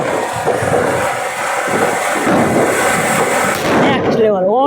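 An anar pomegranate firework bursts during Diwali, shooting a loud, continuous crackling roar of sparks at close range, with excited voices talking over it and a rising whistle near the end.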